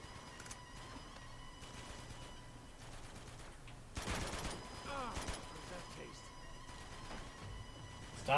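Gunfire in Uncharted 2: Among Thieves crackles in short bursts, then a louder sustained volley midway, with game voices and someone talking over the shooting.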